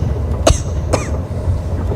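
A man coughs twice in quick succession, sharp and close, inside a train boxcar with a low rumbling background.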